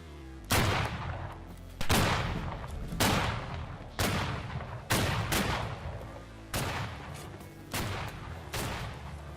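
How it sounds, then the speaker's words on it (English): Rippling musket volley in the Battle Cry of Freedom video game: about seven sharp gunshots spaced a second or two apart, each with a trailing echo, fairly loud, with no talking. "And begin ripple fire,"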